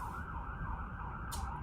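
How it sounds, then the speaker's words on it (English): An ambulance siren wails in a steady, looping tone over continuous road traffic, passing nearby at moderate loudness with no talking. "Ambulance."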